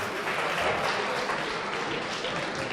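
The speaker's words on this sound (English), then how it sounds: "Let's give the two boxers a round of applause" A boxing event crowd applauds the two fighters after a majority-draw decision, a loud, dense wash of clapping and crowd noise with a voice likely mixed in.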